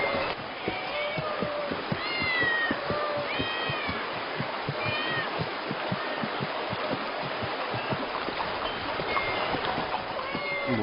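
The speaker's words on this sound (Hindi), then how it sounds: "ये इतनी सारी बिल्लियां यहाँ क्या कर रही हैं?" A crowd of cats in a city packed with them meows over and over in overlapping high calls, close and fairly loud against a low background murmur.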